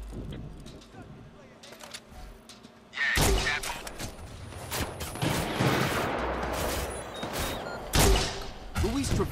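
Sniper fire in Watch Dogs 2 breaks out after a quiet stretch into repeated sharp gunshot cracks with thumping impacts, loud and close in a busy mix of action noise.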